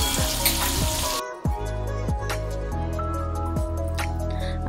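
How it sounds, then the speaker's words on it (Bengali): Chili chicken being slowly stirred as it fries in a pan, loud close sizzling and squishy, wet stirring with repeated scraping strokes, louder at first, then settling into a steady hiss. "ধীরে ধীরে ধীরে ধীরে নাড়িয়ে নিচ্ছি যাতে নিচে না লেগে যায়"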